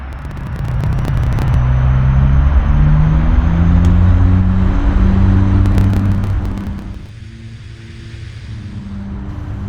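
Dash 8 Q400 turboprop engines in the Aerofly FS4 flight simulator throttle up for takeoff, a loud steady drone with rising tonal hum that holds for several seconds, then dips briefly before building again.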